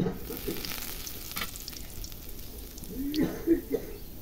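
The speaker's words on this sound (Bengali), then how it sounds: "কচি নিম পাতা আমি তেলের উপরে দিয়ে দিচ্ছি" Young neem leaves drop into hot oil in a home kitchen while cooking a Bengali nim ghonto of green banana, potato and eggplant: a soft, steady sizzle and light stirring, with a few louder crackles near the end.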